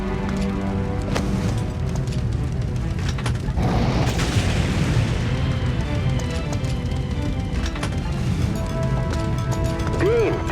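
Explosion in the firefighting video game Firefighter F.D.18, a heavy, sustained rumbling boom swelling amid constant fire and game noise, with faint voices underneath.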